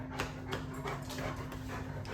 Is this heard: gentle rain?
no